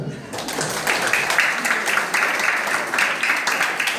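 A church congregation at a Christmas morning service claps together in a steady burst of applause lasting several seconds, fairly loud and continuous with no talking over it.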